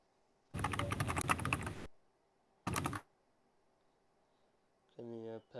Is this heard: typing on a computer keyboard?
yes